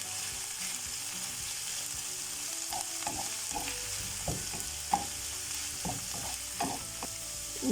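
Carrots fry in a pan with a constant close sizzle, joined by intermittent stirring clatter and scraping of the utensil against the pan; no speech.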